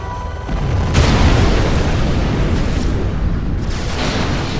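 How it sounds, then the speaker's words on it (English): A nuclear missile launch and explosion in Command & Conquer Generals Zero Hour, heard as a loud, sustained rumbling blast that swells after a second and keeps roaring heavily to the end. "Our nuclear missile is ready. Launching nuclear missile."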